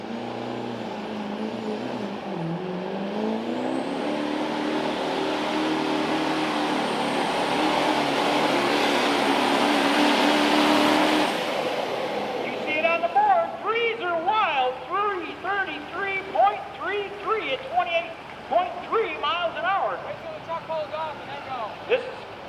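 A modified pulling truck roars down a tractor pull track at a Mini Rods and Illini State Pullers event in Milledgeville, loud and sustained for about eleven seconds before cutting off, leaving scattered voices over a rumbling, idling background.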